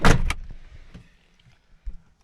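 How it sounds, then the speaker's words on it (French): A vintage Buick car door opens with a loud, close mechanical clunk and latch rattle right at the start, then a quiet interior with a faint thump near the end. "je vais essayer d'ouvrir la porte"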